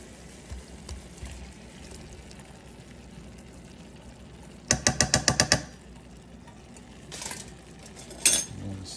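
Pineapple chunks, onions and carrots stirred in a pan with a utensil, giving a quick burst of close clinking scrapes in the middle, a few isolated knocks later, and a soft background hiss between them.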